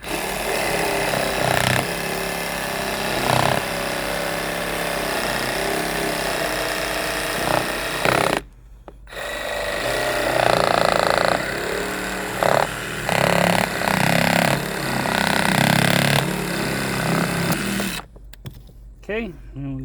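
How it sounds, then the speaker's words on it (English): A Milwaukee cordless reciprocating saw cuts through wood in a tiny house, loud buzzing bursts broken by brief pauses, with a person talking between cuts. "My little Milwaukee cordless sawzall here."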